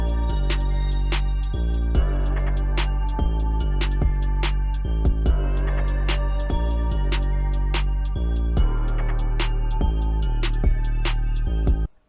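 A full beat made with FL Studio stock plugins plays with punchy kick and snare hits, crisp hi-hats, and a deep bass line in a steady loop, stopping abruptly at the end.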